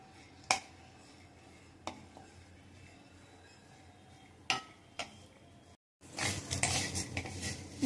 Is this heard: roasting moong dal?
yes